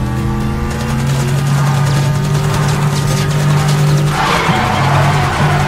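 Helicopter pursuing a car in the racing game Need for Speed: The Run, a steady low droning hum with rotor-like pulsing under continuous engine roar and tire noise, loud and close throughout.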